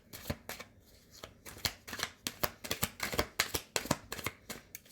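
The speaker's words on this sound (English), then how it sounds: "Let's get some other cards out." Tarot cards shuffled by hand up close, a rapid run of crisp riffling flutters and soft slaps in quick succession with no talking.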